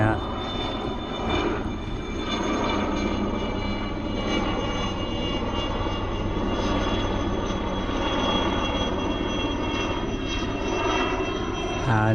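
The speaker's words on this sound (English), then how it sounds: "some helicopter is coming over it" A helicopter passing overhead near a village by a forest, a steady loud engine drone lasting throughout, with people talking quietly underneath.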